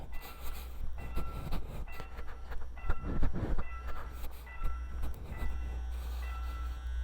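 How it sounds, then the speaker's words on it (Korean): A train rolls through a railroad crossing at night, a loud, continuous rumble with rhythmic clacking and rising and falling wheel noise, heard nearby from a stopped motorbike with no talk. "지금 철도 지나간다"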